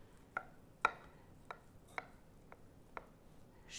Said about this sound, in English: I can cut a slice and